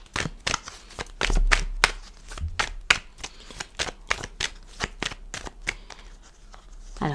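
Oracle cards being shuffled by hand for a weekly reading, a fast run of crisp riffling snaps and soft slaps, close and fairly loud, with no voice.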